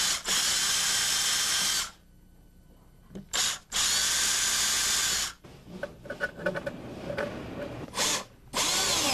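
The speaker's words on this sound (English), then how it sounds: "Then drill the drawer face" A power drill whines through a plywood drawer face in several bursts, loud and close, with short pauses and some clattering between runs.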